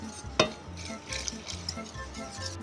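Whisk stirring a velvety mixture in a pot, scraping into the corners with a steady rhythmic swish and occasional metallic taps against the pot sides, close and continuous.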